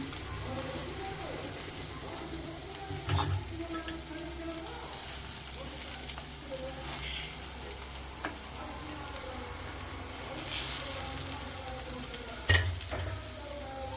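Pieces of fish sizzle and crackle steadily in hot oil, a continuous frying hiss with occasional louder pops and stirring scrapes, close and moderately loud throughout.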